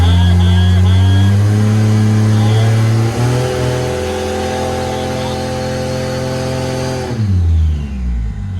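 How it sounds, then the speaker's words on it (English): A Datsun car engine revs up, its pitch climbing steadily higher and higher under steady load, then drops off sharply near the end as the dump valve works. "But then I start giving it revs, it goes up, higher, higher"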